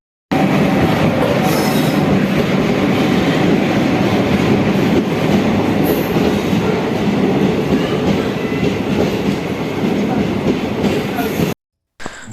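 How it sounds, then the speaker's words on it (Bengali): A train rumbles loudly and continuously close by as it pulls into a station, with rattling wheels and a faint metallic squeal over the roar. "দেখতে পাচ্ছ ট্রেন চলে আসছে"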